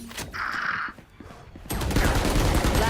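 Rapid gunfire in the online shooter game Valorant, a burst of shots early on, then a brief lull before louder, denser firing resumes and continues to the end, close and prominent.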